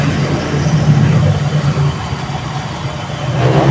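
An engine settled back to a steady normal idle, with a loud, close, continuous low rumble and a slight swell near the end.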